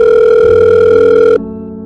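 A telephone dial tone plays within a hip-hop song as a loud, steady, continuous electronic tone over a low backing, then stops abruptly and leaves a softer sustained chord.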